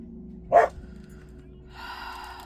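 Dogs barking indoors during a diamond painting session: one sharp, fairly loud bark near the start, followed by quieter hissing background noise.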